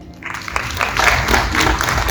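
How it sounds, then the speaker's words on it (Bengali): An audience at the Astro Ritual Academy annual conference claps for a guest called to the stage, a mid-level round of applause that swells and holds steady over a low background hum. "এটি জোরে হাততালি দেবেন ওনার জন্য"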